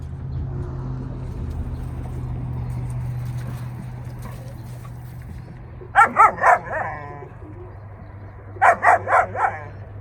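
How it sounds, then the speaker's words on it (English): Two puppies fighting: two bursts of yapping barks, a cluster of three or four quick barks then another, over a steady low engine-like hum. "Two puppies fighting each other."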